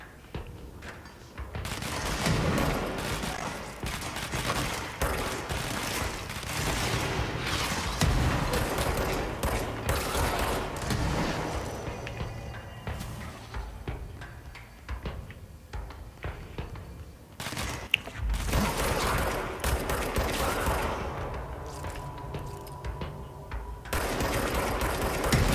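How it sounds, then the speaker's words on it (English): Rockets fired in a video game, a long stretch of loud, dense repeated launches and blasts mixed with rattling fire, easing briefly in places before resuming. "Firing them rockets."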